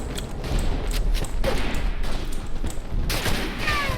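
Rifle fire in the World War I trench shooter Verdun, a constant crackle of distant shots with a few sharper reports and a louder burst near the end.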